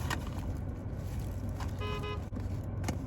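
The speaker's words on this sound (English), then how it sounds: "Confused as to why people are honking." Car horns honk in traffic over a steady road rumble, one clear tonal honk sounding briefly in the middle amid passing vehicle noise.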